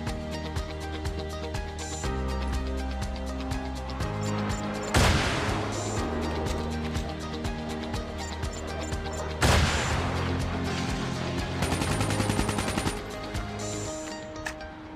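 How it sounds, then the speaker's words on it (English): An incoming napalm airstrike in Call of Duty Mobile, set under continuous game music and rattling gunfire, crashes in with two heavy impacts that sweep up and boom. Rapid firing bursts follow late. "Enemy napalm has been deployed."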